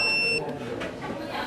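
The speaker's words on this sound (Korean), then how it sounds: "위급 상황에서 버튼을 누르면 삐 소리가 나면서 녹음과 녹화가 시작됩니다" A palm-sized body camera clipped to an official's ID lanyard gives a thin, high electronic beep when its button is pressed, lasting a fraction of a second at the start, then fading into a low room murmur.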